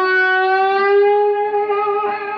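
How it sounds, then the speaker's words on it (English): A bluesy slide guitar lick with a sour, gliding tone, a single sustained note that bends and slides over about two seconds, played alone and close. "they have that kind of sour, you know, bluesy slide sound like this"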